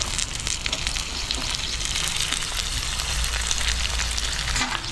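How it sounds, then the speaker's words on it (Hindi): Sponge gourd (nenua) flowers and buds fry in a pan with softened onion, giving a steady, close, crackling sizzle throughout with no talking. "अब इसको थोड़ी देर तक भूनेंगे बढ़िया सा"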